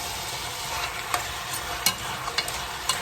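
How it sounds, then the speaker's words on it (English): Curry goat meat browning in a hot Dutch pot as it is turned, with steady close sizzling and a few sharp scraping knocks of the spoon. "We're just gonna keep on turning it so that it gets nice and brown."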